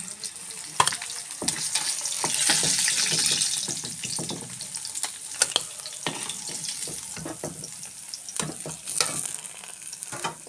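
Fish frying in oil in a thin wok, a crackling sizzle with repeated clicks and scrapes of a turner moving the pieces, close and moderately loud, voices absent.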